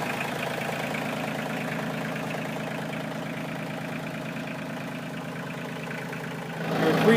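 A 2019 Kioti CK2610 HST compact tractor's three-cylinder diesel idles steadily with a rhythmic chugging throb, heard up close, and the engine rises slightly in the final second.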